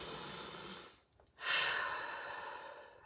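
Human breathing close to the microphone, a soft airy breath that fades to near silence, followed by a fuller, sigh-like exhale that slowly tapers off.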